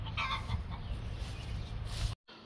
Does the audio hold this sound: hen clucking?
yes